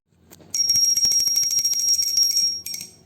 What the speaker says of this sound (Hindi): घंटी बजाकर कर लेंगे आरती।